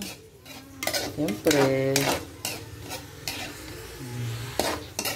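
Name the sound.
stirring chopsuey with chicken liver and heart in pan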